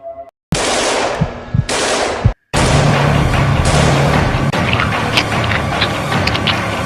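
Rapid bursts of gunfire rattle loudly and continuously, with short pauses early on, like automatic weapons in a video game.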